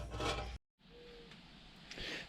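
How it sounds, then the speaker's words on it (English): Sandpaper rubs the original clear coat on a rusty motorcycle gas tank, a soft close scraping stroke, a brief silent gap, then a longer quieter rasp swelling again at the end. "So I'm sanding down the clear coat on the original tank here"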